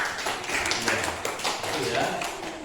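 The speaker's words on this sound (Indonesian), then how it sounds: "Bagus, tepuk tangan." Classroom applause: a crowd of students clapping hands in a dense, steady patter, fairly close, with voices mixed underneath.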